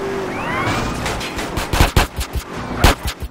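Bursts of gunfire fired from a moving car window in GTA San Andreas, several rapid loud shots clustered in the second half over engine and road noise.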